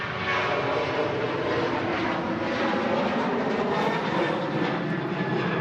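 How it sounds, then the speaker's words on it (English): A Ryanair airliner departs Manchester Airport on a chilly day, its jet engines roaring steadily and loudly as a broad continuous rumble without interruption. "Ryanair off to Pisa."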